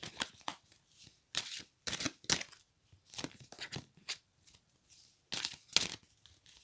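Tarot cards being shuffled by hand, close and crisp, in quick bursts of riffling and sliding rustles separated by short pauses, no speech.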